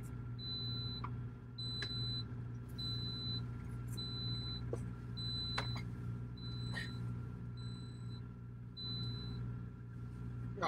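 A high electronic beep from a kitchen appliance repeats about eight times at an even pace over a steady low mechanical hum, inside a truck sleeper cab.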